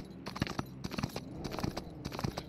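Horse hooves pounding in a galloping rhythm in GTA 5, repeated groups of dull thuds in steady bursts, moderately close over low background noise.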